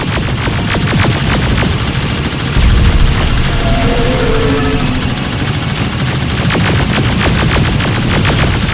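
Loud, sustained automatic gunfire and heavy booming shots from the video game Terminator: Resistance, a dense continuous barrage with no talking over it.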